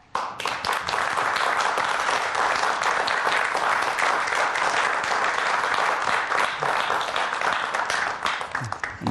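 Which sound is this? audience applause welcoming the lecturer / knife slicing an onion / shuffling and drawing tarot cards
audience applause welcoming the lecturer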